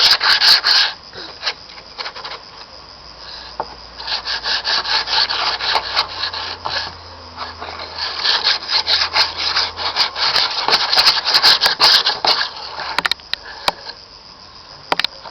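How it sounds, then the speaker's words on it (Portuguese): Wood sanded by hand with sandpaper in a workshop, a continuous close scratchy rubbing with steady back-and-forth strokes that speed up and slow down over about fifteen seconds, no talking. "Lixa bem. Bem lixadinho."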